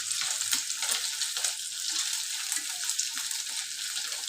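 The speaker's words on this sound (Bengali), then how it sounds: "এই যে ডিম ভাজি হচ্ছে।" Eggs frying in a pan give off a steady, close sizzle with soft crackling pops and occasional stirring scrapes, continuous and fairly quiet throughout.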